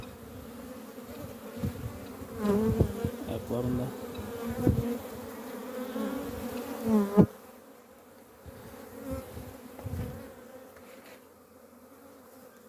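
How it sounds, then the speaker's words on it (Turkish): A dense buzz of honeybees at a hive hums steadily throughout, with a voice speaking briefly over it partway through. "Arılar bugün güzel çalışıyor. Polen getiriyorlar."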